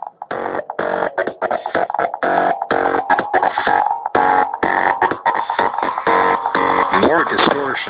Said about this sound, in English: now we need some fat distortion